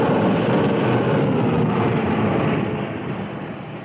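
Airplane sound effect in a 1970s radio drama, a broad continuous engine roar heard alone, slowly fading toward the end.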